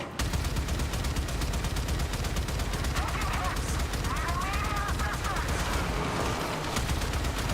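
Gunfire in Warframe, a rapid continuous automatic burst rattling steadily and loudly throughout, with faint voice-like sounds beneath it.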